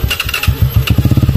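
A motorcycle engine cranks and catches, stuttering through uneven pulses before settling into a rapid, steady putter, loud and close with no talking.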